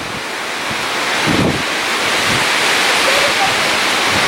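Wind gusting through a vegetable garden, a steady broadband rush against the microphone that swells slightly, with a brief voice near the start.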